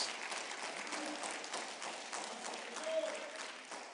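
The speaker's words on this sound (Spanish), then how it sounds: "denle un fuerte aplauso al Rey de Reyes" A church congregation applauds during a sermon, a soft, distant wash of clapping mixed with murmuring voices, quiet throughout.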